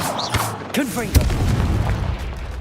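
In Hogwarts Legacy, a Confringo blast spell fires, landing as one sharp booming impact among whooshing magical effects, with a voice calling out just before it.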